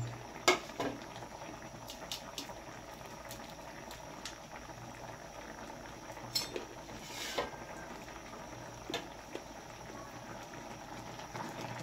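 A pot of ginataang gulay (vegetables in coconut milk) with yellowfin tuna simmers: a low, continuous bubbling with scattered pops and faint clinks, fairly quiet and steady throughout.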